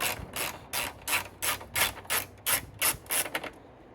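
A hand ratchet clicks rapidly while unbolting a car battery tie-down on a Chevy Cruze, about ten close, crisp bursts in a steady back-and-forth rhythm.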